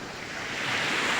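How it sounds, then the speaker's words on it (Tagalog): Sea waves wash continuously at a shoreline on a fishing outing, a steady broad rushing surf with some wind noise on the microphone, fairly loud and without voices. "Ganda ng dagat."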